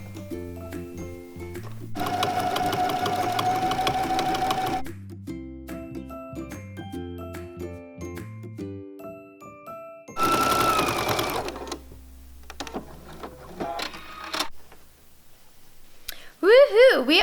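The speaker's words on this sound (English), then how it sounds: "So now we're back over at the sewing machine, and I'm going to sew up the top arm seam first." A domestic sewing machine stitching the top arm seam of a jacket, running in bursts of rapid mechanical whirring separated by pauses, with quieter clicks and handling between runs.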